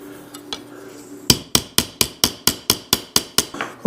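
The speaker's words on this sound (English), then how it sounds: "after you get through hammering it" Hammer striking a copper cuff on a jewelry bench, a few light taps then a steady run of about ten sharp metallic blows at an even rhythm, close and alone.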